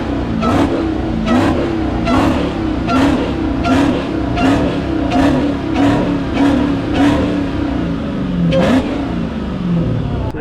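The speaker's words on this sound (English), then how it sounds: "So you can hear the supercharger." A supercharged Dodge Hellcat engine at a street racing meet blips repeatedly, about nine sharp, loud revs in an even rhythm over a steady idle rumble with supercharger whine, close by.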